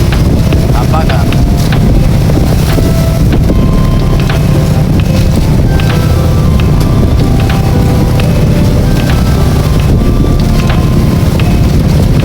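Strong wind buffets the microphone aboard a boat out on the Pacific Ocean, a constant loud low rumble with water and engine noise mixed in, and faint voices now and then beneath it.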